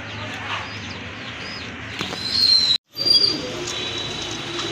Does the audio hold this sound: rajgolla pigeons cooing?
yes